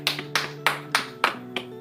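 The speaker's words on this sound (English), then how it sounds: "Give applause for Group 1." Scattered, slow claps in a classroom applauding a student group after a science lesson on alcoholic fermentation, about six sharp, separate hits under a sustained hum.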